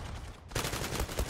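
Gunfire in the online shooter Zula, a burst of several sharp shots that opens after a brief lull, with closely spaced reports repeating near and loud.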